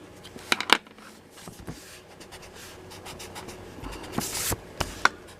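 An eraser rubs pencil lines off a paper drawing in short scratchy bursts, with a few sharper taps and brushing sounds between quieter stretches.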